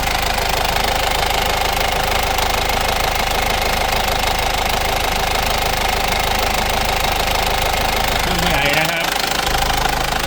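A used Isuzu Dragon pickup truck engine idles close by with a steady, rough, knocking rumble that holds throughout, dipping briefly near the end.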